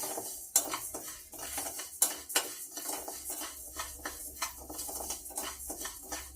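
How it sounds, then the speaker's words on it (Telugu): A spoon scrapes and clinks against a pot as rice is stirred after the stove is turned off, giving steady, irregular metallic scrapes with a few sharper knocks, up close and without talk. "అందుకని తప్పనిసరిగా ఇలా కలుపుకుంటూ ఉండాలి"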